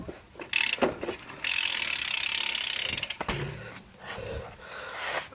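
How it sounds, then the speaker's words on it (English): Rear hub of a BMX bike clicking loudly as the wheel freewheels, a fast steady ratcheting buzz that starts and stops in bursts, close and alone. "My hub sounds kind of loud."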